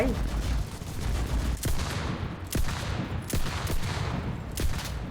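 Rapid gunfire in the WWII shooter Enlisted, with sharp shots cracking at irregular intervals over a dense, rumbling battlefield din, some loud and close, others more distant, while a voice talks faintly underneath.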